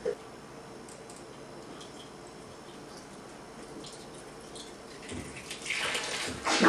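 Water runs steadily with a hissing rush, growing louder and splashier toward the end, with no talking.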